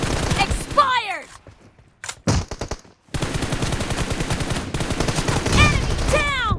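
Rapid gunfire bursts in a video game team deathmatch squad fight, sharp repeated shots and a brief pause before dense firing resumes, with game voice callouts and effects mixed in.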